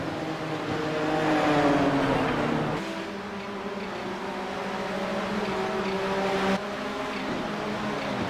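Race cars in a Kamel GT Championship round at Barber circuit roar steadily past, engines droning with pitch shifts as they accelerate and a sharp change where a car goes by, with no talk over it.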